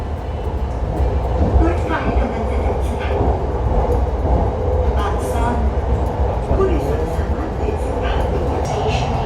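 A Red Line commuter train rumbles steadily along the tracks, a constant loud low roar with faint rattling, while voices talk over it.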